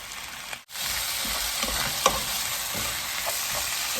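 Australian beef steak fries in a pan with a constant, dense sizzle close by, briefly cutting out for a moment early on before resuming evenly.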